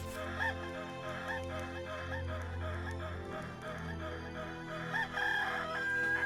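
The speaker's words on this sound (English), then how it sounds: "Chicken! Oh, it's a chicken!" A chicken in the video game Star Ocean Till the End of Time clucks in short repeated bursts, then crows loudly near the end, over a steady tonal game backdrop.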